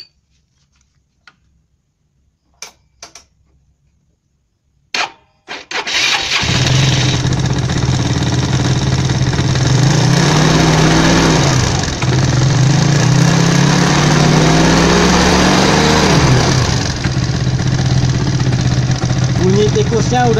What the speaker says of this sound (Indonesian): nyalain bro motornya